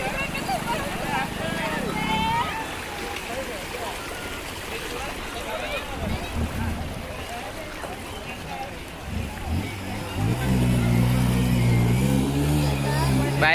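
A motorbike rides through shallow water on a road near Paniyari waterfall in Banaskantha. Steady rushing water fills the scene, a low engine hum swells nearby toward the end, and people talk throughout.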